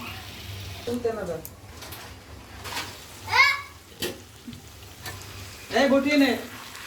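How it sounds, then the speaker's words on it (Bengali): Meat sizzles and fries in a covered pan for khichuri while being stirred, with a steady soft crackle broken by scraping stirs and intermittent voices, including a child's. "আমি মাংস ঢাইকে ঢাইকে কষায় নেব।"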